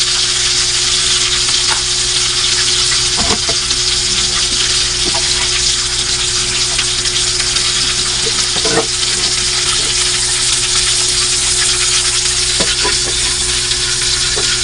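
Milkfish (bangus) fries in a pan with a loud, dense, continuous sizzle and crackle, close up, broken by a few faint taps of a utensil against the pan.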